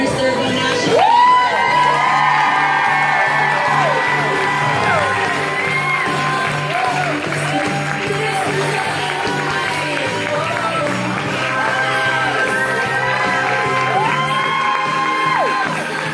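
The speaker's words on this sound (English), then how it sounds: "Please stand and help me give a loud applause for Senior Inner Circle National." Audience at a holiday camp event cheering and whooping with scattered clapping, excited shouts and voices layered over a continuous crowd roar.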